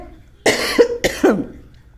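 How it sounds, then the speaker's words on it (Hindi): A woman coughs twice in quick succession, loud and close, with a short pause between the two harsh bursts. "अगर मैं खांस रही हूँ तो बिल्कुल ध्यान मत देना, बोलते बोलते मेरे को खांसी आ जाती है"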